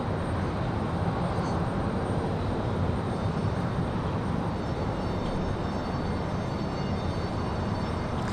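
A Republic Airways airliner flies near Raleigh-Durham airport on its arrival from Chicago, giving a steady, loud engine roar that holds evenly throughout with no voices.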